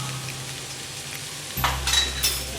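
Chopped green chillies sautéing in a pan for a Mughlai chicken dish, a steady close sizzle that swells and brightens partway through, with faint stirring and no talking.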